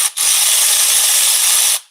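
A single steady ratcheting burst, close and loud, lasting about a second and a half, as a ratchet tightens a car spark plug during engine work.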